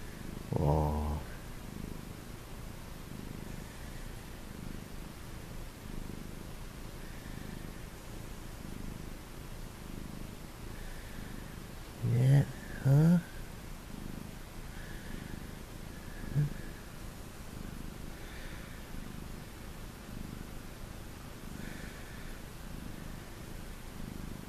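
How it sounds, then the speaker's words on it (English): A cat purrs steadily up close for a long stretch, with a brief rustle at the start and a couple of short louder bumps midway. "Does that make you purr?"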